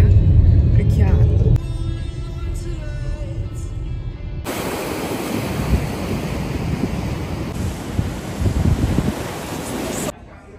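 Ocean surf and wind roar at a San Francisco beach, a dense broadband rush with wind buffeting the microphone, after a brief stretch of other sound at the start.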